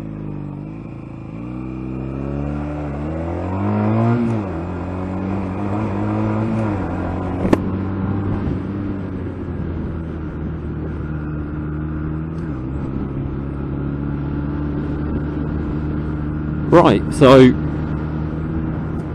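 A car engine runs steadily nearby with a shifting, rising drone, while people talk over it at the start; a couple of brief sharp sounds come near the end.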